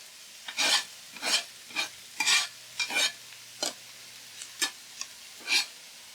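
Mushrooms and garlic stir-fried in bacon fat in a pan for angel hair pasta, heard as a string of brief, bright scraping stirs about every half second over a soft, steady sizzle, close and alone.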